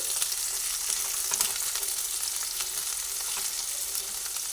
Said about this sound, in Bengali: প্রথমে পেঁয়াজটা দিয়ে দিচ্ছি পেঁয়াজের পরে অল্প অল্প করে ভেজে নিচ্ছি